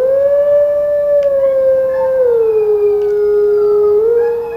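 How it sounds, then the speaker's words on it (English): A wolf howls in the video game Twilight Princess, one long, loud, sustained tonal howl that slowly dips and rises in pitch, heard alone without talking. "we have to howl exactly like it showed"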